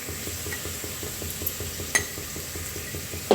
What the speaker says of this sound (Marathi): कांदा लसूण चटणी घालत आहे।